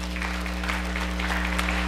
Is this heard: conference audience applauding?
yes